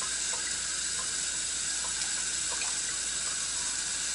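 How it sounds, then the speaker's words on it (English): Tap water pours steadily into a container being filled to test eggs, a constant hissing, gurgling stream heard close and alone at a moderate level with no voices. "you fill your container up with enough water so that it's good enough to float or sink an egg"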